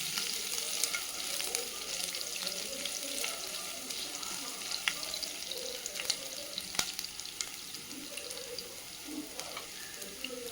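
Chopped garlic cloves and mustard seeds sizzle in hot oil for banana curry, a steady, soft frying hiss with scattered pops and a few sharp clicks, no voices.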